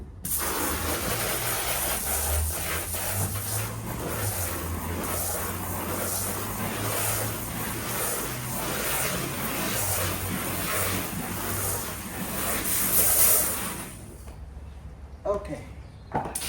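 Carpet cleaning machine running a rinse cycle on an area rug: a loud, continuous motor drone with spraying hiss that holds steady, then cuts off near the end, leaving brief clicks and a voice.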